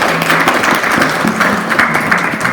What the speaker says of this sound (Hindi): तो इसीलिए जोरदार तालियां इन सभी के लिए